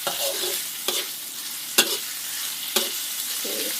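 Pork stir-frying in a pan for sweet and sour vegetables, with a constant loud sizzle broken by several sharp clanks of a utensil stirring against the pan.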